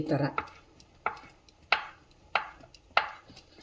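A knife chopping paneer into small pieces on a board, five or six crisp, evenly spaced thuds about every half second, close and clear with nothing else heard.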